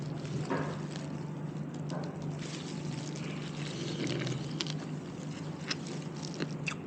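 Melted butter poured over shrimp, heard as a soft, faint trickle and light spatter over a low steady hum, with no voices.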